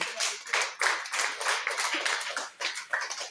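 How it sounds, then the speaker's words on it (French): Congregation clapping during a church sermon, a dense continuous wash of many hands with rhythmic surges, fairly loud and close, with no talk over it. "Applaudis pour le Seigneur."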